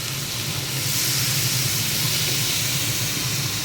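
Crushed garlic and onion paste hitting a hot pan for a Gujarati kaju gathiya curry, producing a steady, fairly loud, continuous sizzling hiss with no pauses or speech.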